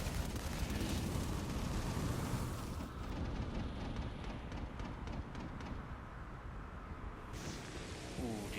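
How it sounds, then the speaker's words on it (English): A good karma power explosion in the game Infamous Second Son: a loud, dense rumbling blast that roars continuously, with crackling debris and a bright whooshing swell near the end, no talk. "if you do enough good karma actions, is a big karma-y explosion"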